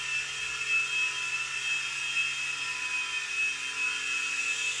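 A small Blade mCX coaxial RC toy helicopter hovers indoors, its rotors giving a steady, high-pitched electric whine with a constant buzzing drone throughout, fairly close and alone with no talk.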